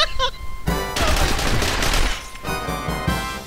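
Rapid gunfire from The Ship video game, dense loud bursts of shots filling most of the stretch, with brief pauses between volleys.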